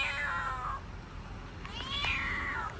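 A pretty cat near a house meows twice, close and clear, with rising and falling drawn-out cries separated by a short pause.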